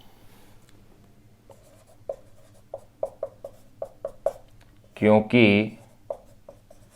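Writing on a board during a physics lesson, a run of short, crisp taps and strokes close by, followed by a brief burst of a teacher speaking and a few more strokes.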